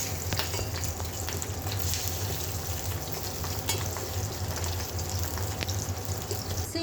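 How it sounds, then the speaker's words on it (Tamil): Ingredients for white chutney sauté in a hot pan, giving a continuous, fairly loud sizzle with occasional stirring scrapes and no talking. "இதெல்லாம் நல்லா கொஞ்சம் வதங்கின உடனே"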